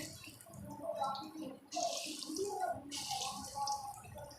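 Lauki koftas frying in hot ghee give off a steady watery hiss and bubbling that keeps going throughout, with a voice talking over it.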